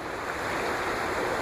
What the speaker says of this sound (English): nice white water that washes right up in this area